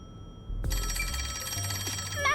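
A telephone rings in the Rain Code video game: a sudden, bright, sustained electronic ringing that starts after a short silence and continues without a break, with a low music tone underneath.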